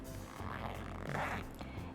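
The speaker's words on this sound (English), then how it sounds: "So now we're going to unzip our zipper." Someone unzipping a regular dress zipper, a short close rasping pull lasting about two seconds, fairly faint, with no voices.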